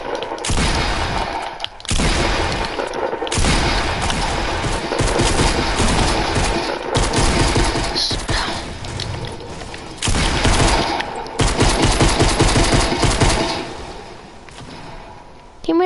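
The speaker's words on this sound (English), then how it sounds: "Shotgun, guys." Shotgun blasts in Fortnite ring out as heavy, loud booms in bursts, mixed with other gunfire and game effects, while people talk over the action.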